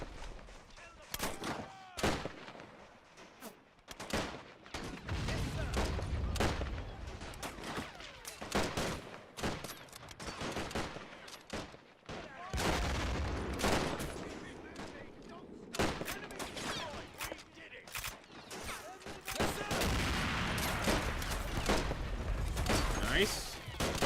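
Mortar impacts and gunfire roll through a 1919 German Revolution strategy battle, a long run of sharp shots and heavy booms, some near and loud, others distant, with brief lulls and occasional talk.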